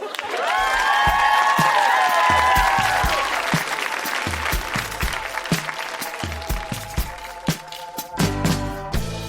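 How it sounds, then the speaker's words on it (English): A large audience applauds the readers at a live storytelling show in Edmonton, a dense sustained roar of clapping with some cheers that thins into scattered individual claps toward the end. "Huge round of applause for all of the readers"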